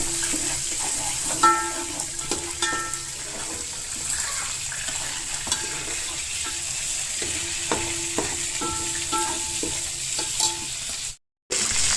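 Spice powder frying in a pot while mandi rice is prepared, a steady close sizzle running throughout with occasional scrapes and clinks of a spoon against the pot, then a brief drop to silence near the end.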